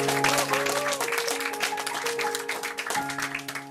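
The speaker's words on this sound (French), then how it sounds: "Mesdames et messieurs, on l'applaudit." Applause for Julie Diouime at a French-language evening gala, a lively patter of clapping throughout, laid over sustained music tones.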